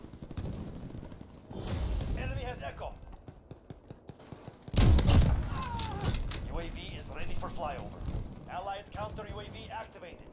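Sniper rifle shot in Modern Warfare multiplayer on Xbox, one sharp loud crack near the middle, surrounded by clattering game sounds and frequent talking.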